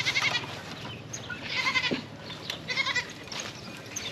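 Several goats on a farm bleat in a series of repeated, moderately near calls that overlap and come in bursts over faint outdoor background noise.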